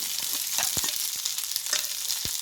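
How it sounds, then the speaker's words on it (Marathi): Onion frying in oil with chillies and cashews, a dense close sizzle with scattered crackles and pops, no talking. "एक मिनटापर्यंत परतून घेऊ लगेच कांदाही घालूया"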